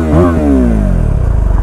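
A motorcycle engine runs loud and close on a Delhi to Mussoorie ride after the bike had shut down and overheated, with a brief rev settling into a fast, even idle putter.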